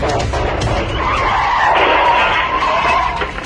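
A car skids with a long, loud tire screech that swells in the middle and fades near the end, a sound effect of a car losing control before crashing into a tree.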